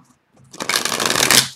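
Tarot cards are shuffled close by in a quick burst of riffling and flapping that builds for about a second after a brief silence, with no voices.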